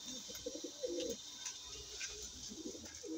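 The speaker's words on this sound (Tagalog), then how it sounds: "Nagpapagaspasan ngayon, no? Ayan, yung ating mga ibon." Pigeons coo softly and shuffle inside a trapping enclosure, with low repeated coos and faint wing movement at close range, no talking.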